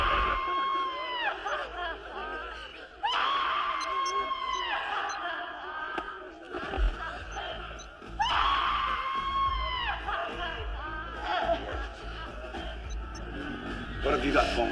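Several people scream and yell in a tense hostage scene from a Hollywood action movie, loud shrieks rising in bursts over crowd commotion and tense background sound.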